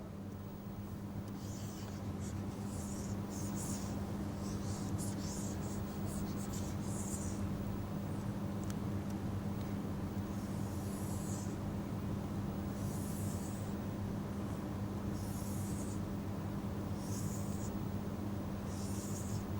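Pen scratching steadily across a surface as a teacher draws a table, a run of short writing strokes in bursts over a constant low hum, with no talking.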